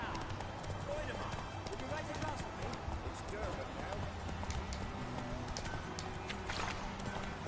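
Horse hooves clip-clop steadily at a gallop in The Witcher III on PS4, a continuous rhythmic pounding under game ambience and someone talking over it.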